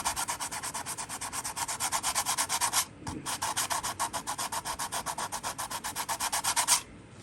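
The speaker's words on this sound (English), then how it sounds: "So just go ahead, sand that lightly, and get that edge a little bit more." Filler on a seam of a 1960s Shasta travel trailer is sanded by hand in quick, steady back-and-forth strokes, a close rhythmic rasp with one short pause partway through.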